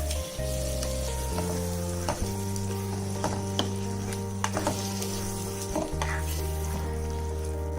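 Roasted chicken tikka being gently stirred into a sizzling masala gravy in a pan: a steady frying hiss with a spoon scraping and occasional soft knocks against the pan, close by, with a continuous low hum underneath and no talking.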